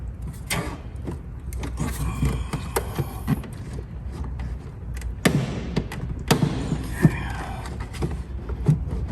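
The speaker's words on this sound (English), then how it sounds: "those clips you just heard were me disconnecting that air ducting coming from the front of the car" Plastic clips pop loose as air ducting is pulled off the front of a BMW with an N63 V8 during spark plug work, a few sharp snaps and thuds over a steady low hum in a garage.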